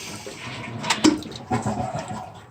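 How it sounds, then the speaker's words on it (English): An American Standard dual flush toilet with an H2O silicone flush valve flushes, with the water supply already shut off. The water makes a brief gurgling rush with a couple of sharp surges, moderately close. "Flush the toilet."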